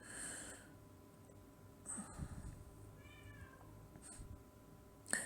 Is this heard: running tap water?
no